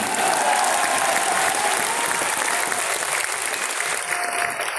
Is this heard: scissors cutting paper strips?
no